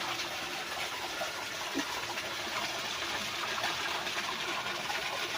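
Steady rushing water from a solar-powered pump flows continuously at a constant level, a soft broadband gush with no pauses or voices.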